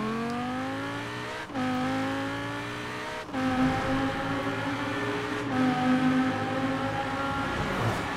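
A car speeds along a snowy highway in the racing game Forza Horizon 4, its engine holding a steady high whine with rising pitch sweeps at each gear change, loud and continuous with no talking.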